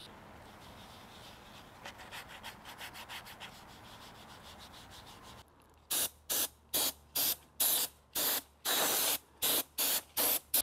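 Short bursts of aerosol spray paint as a color coat goes onto car rims, about eight hisses close by, following softer rubbing or light sanding strokes.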